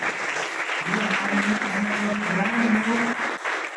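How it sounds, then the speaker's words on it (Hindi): An audience at an agricultural products training session claps for a participant who has reached bronze level. Thick, continuous applause runs the whole stretch, with a low steady hum or voice tone underneath. "तालियां बजा दीजिए रत्नेश जी"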